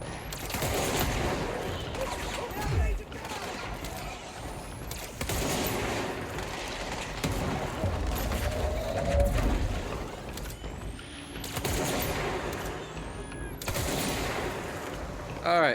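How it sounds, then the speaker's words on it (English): Lewis gun machine-gun bursts in the video game Control, loud and dense, with rapid fire filling most of the stretch and brief lulls between volleys, mixed with game effects and occasional mechanical clicks. "I do like the Lewis guns. That's fun."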